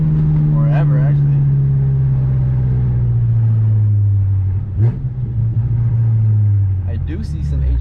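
A BMW F10 M5 cruises gently while warming up, its engine a steady low drone throughout with a faint rise and fall in pitch, and a voice talks over it.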